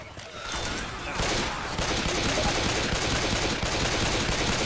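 Rapid gunfire from players shooting zombies at long range in Left 4 Dead 2, a sustained loud fusillade of dense overlapping shots that builds after a brief start and continues without pause.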